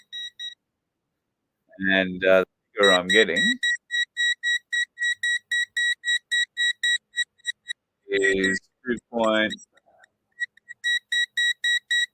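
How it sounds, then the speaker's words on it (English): Repeated short electronic beeps in a steady, insistent rhythm, with someone talking briefly in between. "That's probably a very annoying beeping noise for you."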